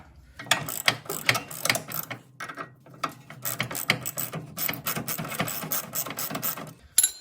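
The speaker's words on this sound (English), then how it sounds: "So I actually had to get my torque bar and use that." A ratchet wrench on a torque bar clicks repeatedly as it works loose a suspension nut on a Suzuki Cappuccino during a coilover install. The bursts of close, rapid clicking stop briefly between strokes.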